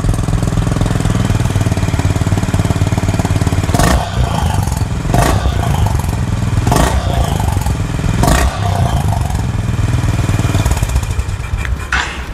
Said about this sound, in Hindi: तो ऐसा सा मोटरसाइकिल का ग्रंट है। एग्जॉस्ट काफ़ी बेसी है